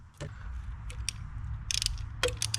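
A ratchet wrench removes small 10 mm nuts on a 2022 GLI engine, giving a few quick clicking bursts close by over a low background hum.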